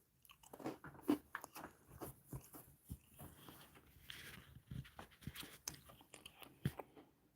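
Crunchy patriotic sugar cookies from an MRE being bitten and chewed close to the mic, with irregular crisp crunches and soft chewing over several seconds, no talking.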